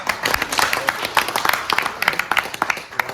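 An audience at a motivational talk claps in a dense, steady patter of many hands for a few seconds, fairly close and even in loudness, with no clear voice over it.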